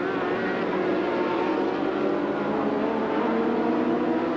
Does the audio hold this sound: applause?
no